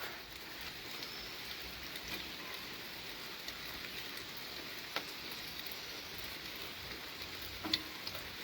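Steady rain falls outdoors among trees in the morning, a continuous soft hiss with occasional louder drops, fairly close and without voices.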